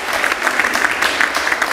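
Dense, steady applause from a church congregation during a French-language service, loud and close, a continuous wash of clapping with no voices standing out.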